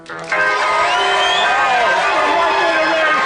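A studio audience on a British comedy show cheers, whoops and shouts loudly after a quiet first moment, a sustained close crowd roar with excited voices throughout.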